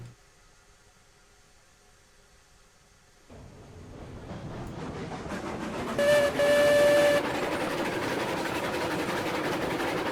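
A steam locomotive whistle in the Railroads Online video game sounds over a steady rumbling, hissing background that grows louder, with a brief sharp two-tone blast near the middle.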